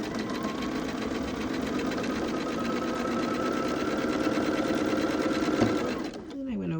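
A sewing machine stitches along a quilt seam with a fast, even motor whir and needle chatter for about six seconds before stopping abruptly.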